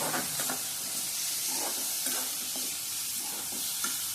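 Prawns sautéing with turmeric powder in a hot pan: a steady sizzle and hiss under repeated scraping strokes of a spatula stirring the pan, close and moderately loud, with no talk.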